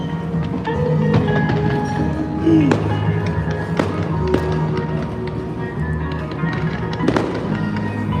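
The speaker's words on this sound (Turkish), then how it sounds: "Bak havai fişeklere bak." Fireworks going off at a riverside summer festival on the Main, with repeated sharp bangs and crackling pops scattered through a steady crowd murmur, some bursts close and loud, others more distant.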